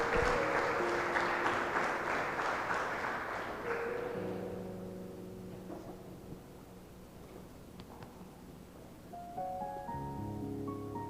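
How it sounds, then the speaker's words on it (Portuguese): Church congregation applauding during an evening service: clapping fades out over the first four seconds, then sustained organ or keyboard chords and a few soft tones take over, rather distant and quiet. "Aplaude o Senhor nessa noite, irmão"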